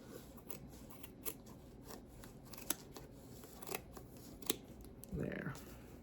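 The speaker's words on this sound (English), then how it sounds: "you're going to take your scissors and cut" Quiet, sporadic snips of scissors cutting through paper, a handful of crisp clicks spaced irregularly, followed by a soft rustle of paper.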